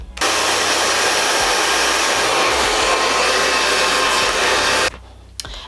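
An EAP heat blow dryer roars steadily at close range with a constant airy whoosh during a lace wig install, then cuts off abruptly near the end.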